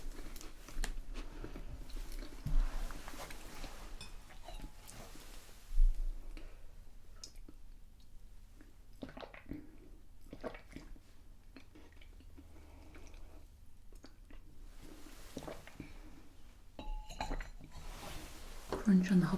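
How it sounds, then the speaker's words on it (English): A Hobnob oat biscuit is bitten and chewed close up in a quiet room, giving a few sharp crunches followed by soft, intermittent chewing and clicks, with whispered talk in between. "Crunch on the hobnob."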